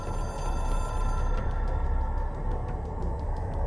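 A telephone rings in the video game Control, a repeated electronic trill heard over the game's low ambient rumble and music, fairly loud and continuous.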